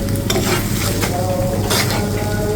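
Goat brain bhuna frying in oil and masala, a steady close sizzle with occasional stirring scrapes throughout.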